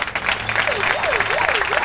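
Dense applause from a large crowd at a Christian pastor's address fills the space continuously, with a voice rising and falling faintly underneath.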